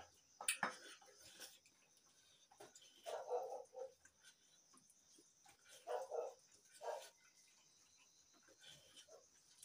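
A village dog barks a few times at some distance, in short separate bursts with pauses between them, over quiet background noise.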